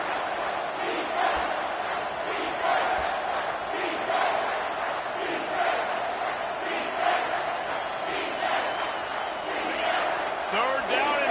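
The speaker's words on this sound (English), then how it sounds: "Third down, and this crowd is tearing the lid off this place" Football stadium crowd roaring on third down during MSU vs Michigan, a dense, sustained wall of cheering and yelling at steady loudness, with a commentator talking over it.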